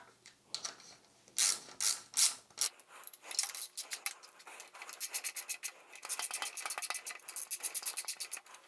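Ratchet clicking as camshaft bolts are tightened on a BMW M52 engine, a close, steady run of sharp metallic pawl ticks in quick bursts with brief pauses between strokes.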